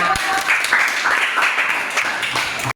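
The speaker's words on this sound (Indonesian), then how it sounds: "Tepuk tangan" Students in a classroom applaud after a group presentation, a brief burst of clapping from the room that stops abruptly.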